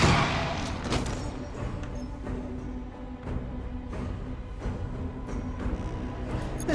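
Gunfire in Space Hulk: Tactics, the Blood Angels campaign, comes as a string of sharp repeated shots at irregular intervals over a dense low battle rumble, moderately loud and close.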